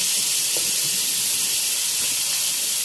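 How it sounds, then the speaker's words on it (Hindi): Cumin and chopped onion fry gently in a hot pan, giving a constant bright sizzle and hiss with no pauses, close up and steady, and nobody speaks. "इसको हम हल्का सा फ्राई करेंगे, बहुत हल्का सा।"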